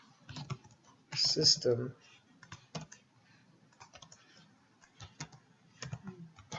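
Quick bursts of close clicky typing on a computer keyboard, separated by short pauses, with a voice talking briefly partway through.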